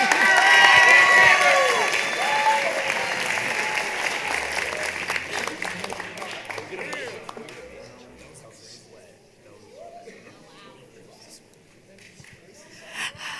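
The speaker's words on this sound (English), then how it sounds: "You can clap." At a spring signing day, applause and some cheering break out loudly, then thin and fade into scattered claps and room noise, with voices audible around them.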